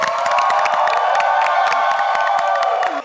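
A live comedy-show audience breaks into loud applause mixed with cheering and whoops, dense and sustained clapping that fades slightly at the end.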